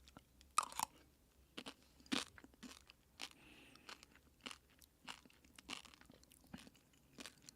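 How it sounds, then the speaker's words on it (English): Close, quiet crunching and chewing of Huel mac and cheese with some crunchy noodles, in irregular bites with soft mouth sounds between, no talking. "That first bite I got had some crunchy noodles in it."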